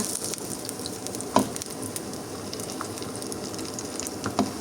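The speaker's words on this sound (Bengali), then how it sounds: "আর দিয়ে দিচ্ছি আমি তেল ভাজার জন্য অলরেডি গরম হয়ে গেছে মাছ দিয়ে দিচ্ছি" Gram-flour-coated fish frying in hot oil in a pan, giving a steady close sizzle with brief louder crackles and spatters as pieces settle.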